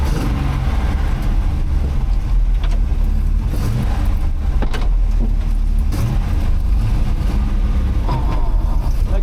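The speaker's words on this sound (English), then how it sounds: "It's got just a wee bit of clutch chatter. Pretty bad, actually." A 1979 Dodge D300 pickup, abandoned for over twenty years, driving slowly with a slight clutch chatter: a steady loud engine rumble with rough low vibration throughout and no break in the drone.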